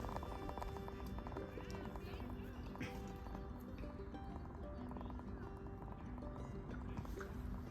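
Horse hooves clip-clopping at a spot where a horse is being petted, a faint, steady, continuous patter under low background noise.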